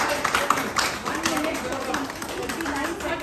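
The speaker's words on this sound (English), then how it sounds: "Let's clap for her." A crowd at a gym calisthenics challenge applauds steadily for a few seconds, with voices and cheering mixed in.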